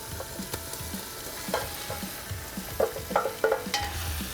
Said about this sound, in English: we're sizzling